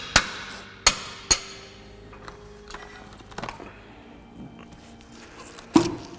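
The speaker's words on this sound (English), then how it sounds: "I'm going to spread it with a tapered punch and wait for it to break." Sharp metallic hammer blows on a tapered punch, spreading an inner tie rod boot clamp in a tight spot under a car: three quick strikes, a quiet pause with faint tapping, then one more hard hit near the end.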